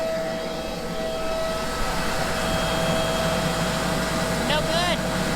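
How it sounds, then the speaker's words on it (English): Loud blower running outdoors on a farm at soybean planting time, a steady broadband roar with a constant tonal hum, continuous throughout with a brief warbling squeal near the end. "Sorry, the blower's a little loud."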